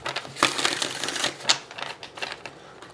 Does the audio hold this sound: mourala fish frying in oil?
no